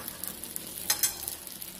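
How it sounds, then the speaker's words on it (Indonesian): Roti jasuke dough (cheese, milk and corn bread) frying in hot cooking oil gives a steady, faint sizzle with a couple of brief louder crackles near the middle, no voices. "Oke, sembari ini digoreng ya."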